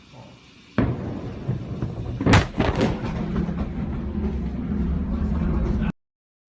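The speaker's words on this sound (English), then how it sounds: "This amateur video of a huge explosion in Wuhan province was uploaded to Facebook." A huge explosion in Wuhan, recorded by an amateur, hits as a sudden loud boom followed by a sharper blast and a long roaring rumble that cuts off abruptly.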